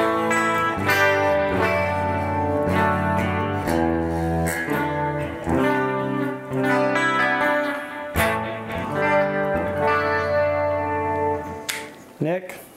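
A Singtall Dragon electric guitar played on a clean tone, with rich ringing chords and single notes in a steady flowing pattern, close and prominent, with a touch of chorus and echo coloring the sustain.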